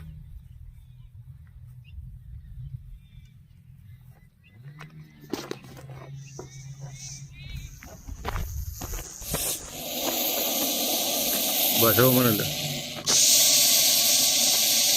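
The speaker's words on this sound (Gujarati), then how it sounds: "જ્યારે સ્નેક અવાજ કરે છે આવી રીતના બરાબર છે કુકરની ચીટી વાગે એવી રીતના અવાજ" A Russell's viper hissing during a rescue, a steady breathy hiss that grows louder and continuous toward the end, with someone talking nearby.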